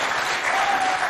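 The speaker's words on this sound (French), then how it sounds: "On l'applaudit." A crowd at a school quiz competition broadcast from Moundou, Chad, bursts into loud, dense clapping that fills the whole brief moment without pause.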